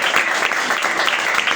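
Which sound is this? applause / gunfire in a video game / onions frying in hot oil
applause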